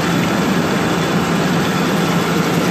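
A machine trepans a 12-inch hole in Inconel 718 at 44 rpm, producing a loud, unbroken low-pitched mechanical drone and grinding hum with no pauses or voices.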